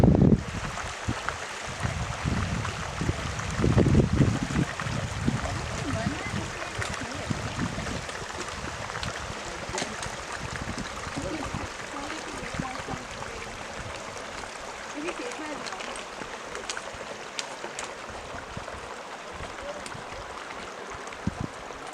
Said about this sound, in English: I like how the water is flowing and bubbling over the rocks